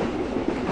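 Steady rumble and rhythmic rattle inside a moving passenger train carriage, continuous and fairly loud throughout with no talk.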